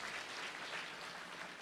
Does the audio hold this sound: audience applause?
yes